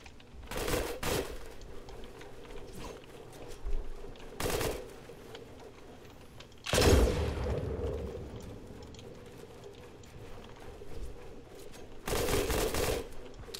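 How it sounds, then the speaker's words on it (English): Gunfire in the video game Fortnite, with several separate bursts of rapid shots and one heavier blast spaced out across moderately quiet background noise. "No, don't shoot, don't shoot. I'm not here. No, stop shooting."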